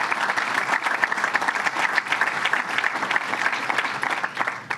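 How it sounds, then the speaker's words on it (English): A round of applause for the Halesite Fire Department at a public announcement, dense steady clapping from an audience filling the whole stretch, loud and even with no pause. "so let's give them a round of applause"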